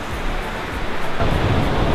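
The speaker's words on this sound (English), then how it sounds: "Look at those beautiful waves just rolling in like that." Ocean waves roll in on a San Diego beach in winter, a broad, steady wash of surf that swells louder partway through, mixed with wind rumbling across the microphone.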